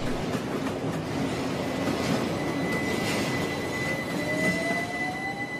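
A train rumbles past on leaving Fenchurch Street, London, under a covered way, with a steady, heavy roar and rhythmic wheel clatter, and a thin metallic squeal rises near the end.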